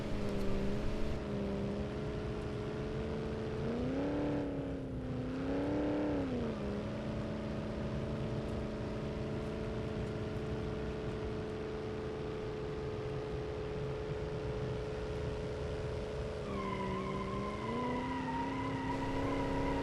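Nissan Skyline GTR R34 in the BeamNG.Drive game drones loudly at top speed, a sustained high engine tone that dips briefly near the start and again toward the end, then settles, with no talk over it.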